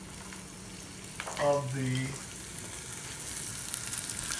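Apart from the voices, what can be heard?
almonds and cranberries sautéing in a pan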